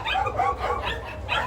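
Dogs bark and yip in quick, high-pitched bursts at the Sonpur animal fair, close and lively, with Pomeranians among the animals on show and crowd murmur behind.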